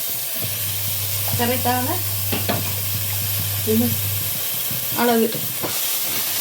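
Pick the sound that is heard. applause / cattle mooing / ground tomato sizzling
ground tomato sizzling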